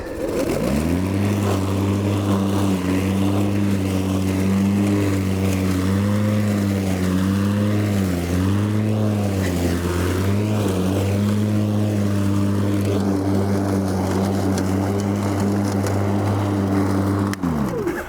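A cordless battery lawn mower cuts through tall grass, its electric motor giving a steady, loud droning hum that holds without a break from start to finish, with no voices.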